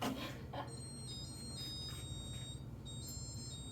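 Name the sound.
micromouse robot's buzzers playing a song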